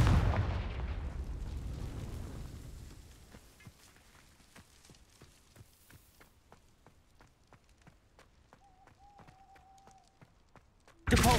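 Confringo fire spell explosions in Hogwarts Legacy: a loud rumbling blast fades over a few seconds into a rapid string of sharp cracking impacts, with a brief whistling tone near the end and another burst at the close.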